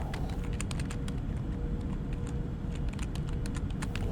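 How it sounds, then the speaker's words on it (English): Steady computer keyboard typing with fingers in leather gloves, soft rapid clicks and clacks close up in a quiet room, continuous with no speech. "Clickety-clack, clickety-clack. That's how the keyboard goes."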